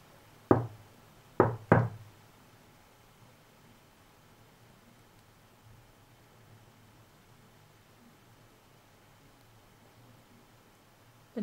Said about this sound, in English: I'm going to tap.